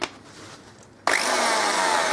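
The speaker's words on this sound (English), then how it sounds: "A real mains corded drill." A mains-powered corded drill starts abruptly after a second of quiet room noise, then whines loudly and steadily at full speed, close by, while a shelf is being built.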